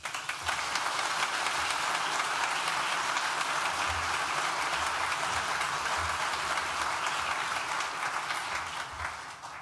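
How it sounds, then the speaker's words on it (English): A graduation ceremony audience breaks into sustained, dense applause, many hands clapping loudly and evenly for nearly ten seconds before easing off slightly at the end. "you all deserve to give yourselves a round of applause just for showing the grit needed to attain this qualification"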